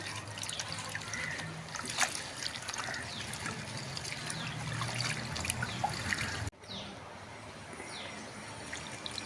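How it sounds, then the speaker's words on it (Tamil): Indian pennywort (vallarai) greens being rinsed and squeezed by hand in a bowl of water, giving a steady close trickling and sloshing with small drips, briefly broken by a cut and a quieter stretch. "இது நல்லா அலசிக்கலாம் இப்படி பிசைஞ்சு விட்ட மாதிரி அலசிக்கோங்க"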